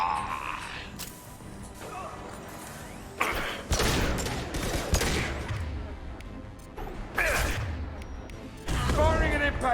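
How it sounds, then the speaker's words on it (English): Sci-fi shooter game gunfire, with bursts of rapid shots, crashes and impacts across a combat scene, moderately loud, over game dialogue spoken in between. "Firing an impact shot."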